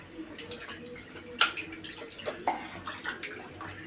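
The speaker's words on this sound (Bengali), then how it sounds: "মাছটা আমি প্রথমে একটু ধুয়ে নেব।" Fish being rinsed in water before cooking for a Bengali fish gravy, with soft irregular splashes and drips close by, fairly quiet, with no talk over it.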